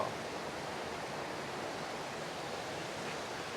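A waterfall in front of a homestay at Ban Mae Lai, Huai Kaeo, Mae On, Chiang Mai, gives off a steady, even rush of falling water with no pauses, moderately quiet and unbroken throughout.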